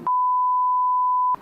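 A steady electronic beep tone from a phone call rings out clean and loud for just over a second, with a brief burst of noise at its start and end.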